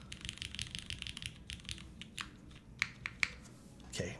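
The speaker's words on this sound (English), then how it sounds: "This is how we normally type with things." Typing on a computer keyboard with no desk pad underneath: quick, close, clacky keystrokes in an uneven stream, with a few louder key hits toward the end and no talking.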